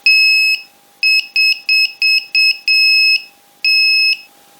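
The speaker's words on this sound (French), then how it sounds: "Là, je vais activer le buzzer." A buzzer on an RC model 4x4 car's FPV setup gives loud, shrill electronic beeps: one long tone, a quick run of five short bursts, then two longer tones, alone with no voices.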